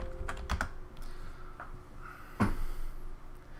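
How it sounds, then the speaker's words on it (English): Keys clatter on a computer keyboard in short irregular bursts of typing, close and moderately loud, with a few sharper key strikes. "why is this not typing?"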